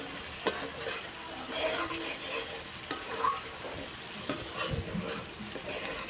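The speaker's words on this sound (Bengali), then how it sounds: "তো এগুলো আমি ভালো করে একটু কষিয়ে নিই।" Spices sautéed in a kadai with steady sizzling and frying, broken by the scrape and clatter of a spoon stirring, close up with no talking.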